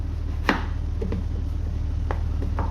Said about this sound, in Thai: หั่นไปเรื่อยๆจนหมด2 ลูกเนาะ